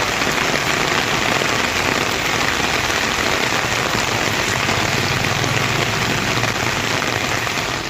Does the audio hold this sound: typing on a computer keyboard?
no